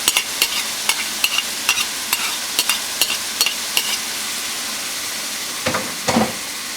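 Chopped garlic frying with meat in a hot pan for stuffed manicotti, a constant close sizzle punctuated by regular sharp scrapes of a spoon stirring, with no voices.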